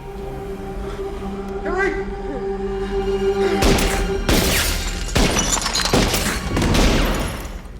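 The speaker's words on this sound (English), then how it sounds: "They shot him 6 times!" A gun is fired repeatedly during a tense scene from the horror film Halloween H20, with a cluster of loud cracking bangs mixed with crashes and dramatic film audio.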